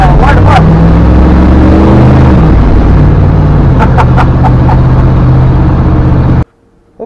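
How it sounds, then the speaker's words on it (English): A 1971 Ford F250 bumpside pickup, long neglected, does a burnout: a loud, steady engine roar with tire noise that holds for several seconds, with voices talking over it, then cuts off abruptly. "listen to that burnout"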